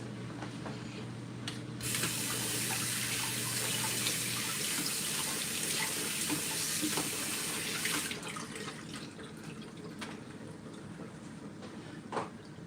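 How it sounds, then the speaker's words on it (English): A kitchen sink tap runs steadily while carrots are rinsed under it, a bright hissing water stream that starts loud, continues with splashing, then eases to quieter flow, without speech. "So I'm going to wash off the carrots and then come and drop it in the pot."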